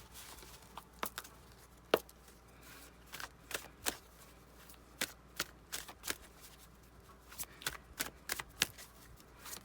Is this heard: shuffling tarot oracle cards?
yes